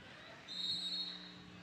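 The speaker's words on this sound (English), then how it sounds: "As whistle blows" A referee's whistle blows once, a short shrill tone lasting under a second at a 2019 MAAA conference tournament basketball game, over steady crowd murmur in the gym.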